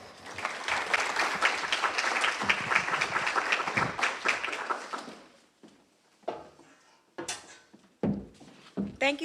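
Applause from a club audience at a law enforcement and mental health forum, loud and dense for about five seconds before fading into scattered bumps and thuds, likely seats and movement in the room.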